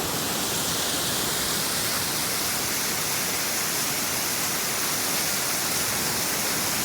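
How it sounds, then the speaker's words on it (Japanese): Heavy water cascading like a waterfall beside Takaitabi beach in the Goto Islands after a morning of torrential rain, a steady broadband roar that stays even and loud throughout with no voices. "滝のように水が流れております。"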